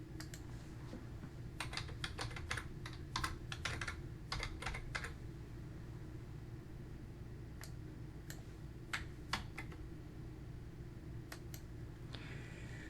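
Typing on a computer keyboard, bursts of rapid, close key clicks with short pauses between, then scattered single keystrokes over a constant low hum.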